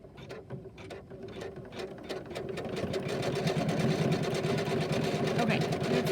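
A sewing machine stitches a snowman quilt block, its rapid mechanical needle clatter running steadily and close, growing slightly louder partway through with no one talking.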